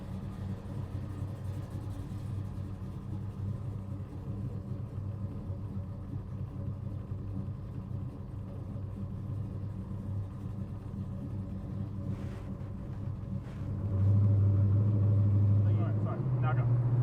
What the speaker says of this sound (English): we're out in the 1970 Chevelle, and let me tell you, this thing is a great driver car